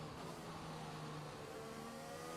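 An F1 race car in the F1 2021 video game accelerating with overtake boost: a continuous, loud engine whine holding steady and slowly rising in pitch, with no talking.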